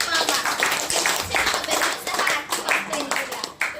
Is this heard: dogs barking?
no